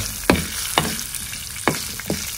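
Onion and green chillies fry in oil for an avarekalu chutney, a steady close sizzle broken by four sharp spatula scrapes at uneven intervals.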